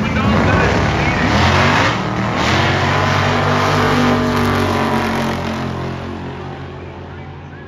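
A drag racing car runs down the dragstrip at Byron Dragway during Sick Summer, a loud roaring engine pass with rising pitch that fades as it pulls away, and a commentator talks over it.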